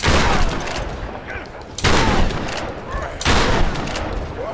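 Three bursts of rapid gunfire from the Tomb Raider video game crack out loud and close, each hitting hard and then trailing off into a rumbling tail before the next one. A voice may be faintly present underneath.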